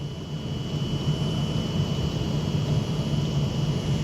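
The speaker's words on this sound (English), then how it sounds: "Now departing is going to be the 1618 Avanti West Coast service to Manchester Piccadilly from London Euston with a class 390" A Class 390 Pendolino on an Avanti West Coast service departs Stafford station, a steady broad rumbling roar with a faint high whine, fairly close and constant throughout.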